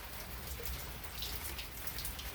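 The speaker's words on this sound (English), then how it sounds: "It has begun to rain." Rain falls at 5 p.m. on a July afternoon, a soft, steady patter of drops on surfaces with no voices.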